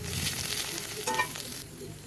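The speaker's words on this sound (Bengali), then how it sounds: "ওই তেলেই কিছুটা গোটা জিরে আর পেস্ট করে রাখা মশলাটাকে দিয়ে দেব। মশলাটাকে সুন্দর করে কষিয়ে নেব।" Whole cumin and ground spice paste fry in hot oil for a pointed gourd masala, a steady close sizzle with a brief stirring flurry in the middle, no voices.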